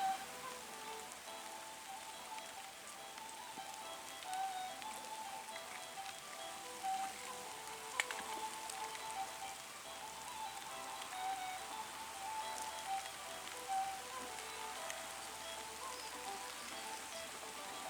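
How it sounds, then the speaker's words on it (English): Steady rain falling outdoors beside an Irish salmon fishing spot, a soft continuous hiss of drops pattering on surfaces with no voices. "Here comes the rain, lads. Here comes the rain."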